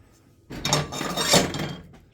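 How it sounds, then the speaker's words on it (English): A plastic plate comes off a stovetop in a home kitchen: after a quiet start, a sudden clattering scrape and rattle of dishware swells, peaks briefly, then trails off, up close. "Let's get a plastic plate off the stove."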